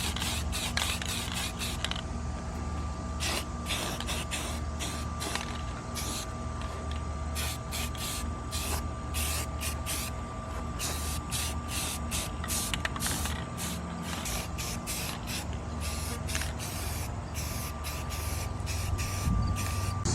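Aerosol primer sprayed onto truck camper window frames in a series of short and longer hissing bursts, close and steady, with no talking.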